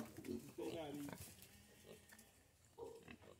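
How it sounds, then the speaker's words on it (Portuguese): Pig grunting and squealing in a farm pen, faint bursts close by while people talk over it. "Nossa, esse tá brabo, hein? É porco"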